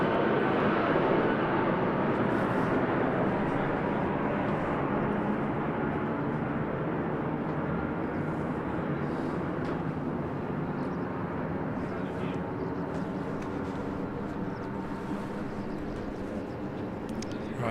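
Jetstar airliner approaching Christchurch Airport in thick fog, a steady broadband engine roar that stays loud and constant throughout, distant and continuous with no talk.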